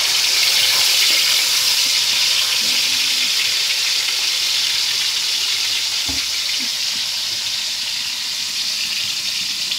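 Milkfish (bangus) frying in hot oil gives a loud, continuous crackling sizzle with a high squealing hiss, and a single soft knock partway through.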